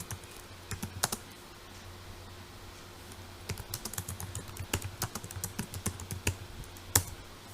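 Keystrokes on a computer keyboard while building Python PyQt5 school management software, arriving in irregular bursts of sharp clicks with short pauses in between, close up and clear against a quiet background hum.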